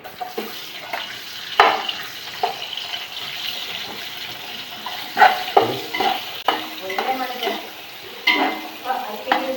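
Onions and cabbage frying in a pan for fried rice, a close, steady sizzle with repeated stirring scrapes and clinks of a utensil against the pan, fairly loud, with brief voices in the background.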